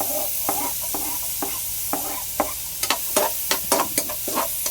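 Garlic and onion sautéing in a pan toward golden brown for garlic butter shrimp, a bright hissing sizzle punctuated by a series of sharp spatula taps and scrapes, quickening in the second half.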